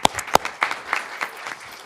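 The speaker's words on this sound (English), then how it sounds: "Let's give you a round of applause." A brief, sparse round of applause at a school district board meeting, a few distinct claps followed by softer scattered clapping from a small audience.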